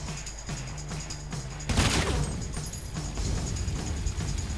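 Suppressed gunfire in the video game GTA V on PS4, heard as shots over a steady game soundscape, with a sudden loud burst near the middle followed by continued rapid firing.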